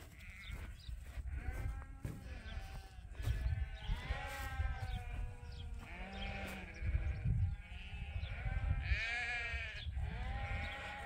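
Sheep and ewes bleat in a field on a sheep farm, many overlapping calls near and far forming a busy continuous chorus with no talking.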